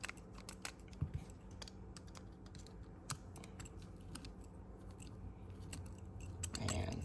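A handheld tool snugging a screw into an Axial three-gear RC transmission: quiet, scattered small clicks and ticks at uneven intervals, close by, ending in a brief soft rustle.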